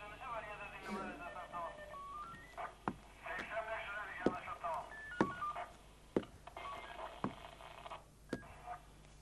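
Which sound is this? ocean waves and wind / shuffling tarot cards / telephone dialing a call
telephone dialing a call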